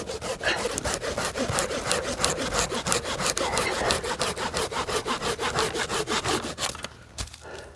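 Handsaw cutting through a pine tree trunk, with steady, rhythmic back-and-forth rasping strokes close by, loud and unbroken for about seven seconds before stopping.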